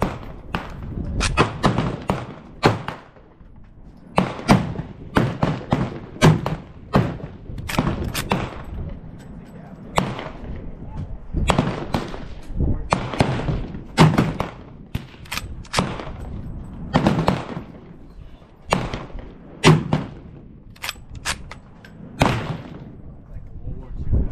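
A Gewehr 95 rifle fires 7.62x54R rounds outdoors, loud sharp repeated reports spaced a second or two apart in irregular bursts, with bolt clatter and handling noise between shots.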